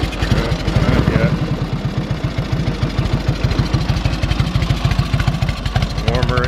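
A 1946 Indian Chief antique motorcycle engine idles up close, its loud, even low thumps pulsing steadily throughout, with a voice faintly talking over it.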